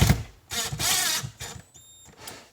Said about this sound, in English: I'm just basically screwing it right into the sheetrock here.